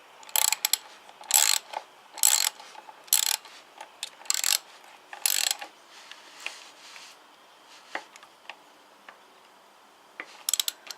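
A ratchet tightens bolts in short bursts of rapid clicking, loud and close, a few separate runs, then scattered faint clicks and taps.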